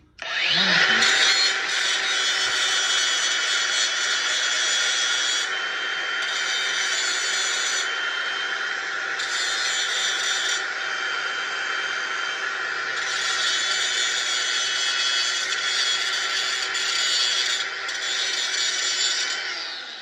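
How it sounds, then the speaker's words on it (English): A grinder works the burrs off the end of a Foxbody Mustang steering column shaft, a loud, continuous abrasive whine that holds steady for the whole stretch, with a few brief dips in pressure. "OSHA approved grinding technique."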